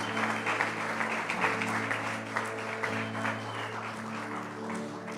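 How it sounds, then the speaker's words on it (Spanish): Congregation applauding in a church service, steady broadband clapping filling the room with sustained tonal music or organ-like hum underneath, no voices over it. "¿Alguien puede un aplauso al Señor?"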